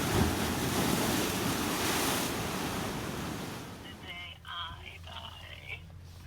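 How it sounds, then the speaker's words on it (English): Ocean waves crash powerfully on the Oregon coast, a loud roar of surf and wind buffeting the microphone that fades into a softer wash as the wave recedes. "Look at the intensity of the water when this wave crashes."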